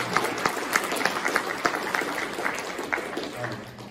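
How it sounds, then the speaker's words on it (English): A convention panel audience at HeroesCon applauds, with a steady wash of clapping and distinct individual claps standing out near the front, gradually thinning toward the end. "Let's give them a round of applause for that."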